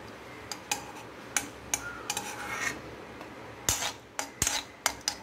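Cashew nuts are roasted in hot ghee in a pan, with a spoon giving sharp, scattered metallic clinks and scrapes against the pan over a soft background hiss, with no talking.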